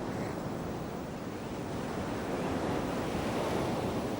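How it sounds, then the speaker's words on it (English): Dangerous surf pounding the Coromandel coast of India, a loud unbroken roar of breaking waves mixed with wind buffeting, steady and close with no pauses. "The surf of the Coromandel coast is dangerous."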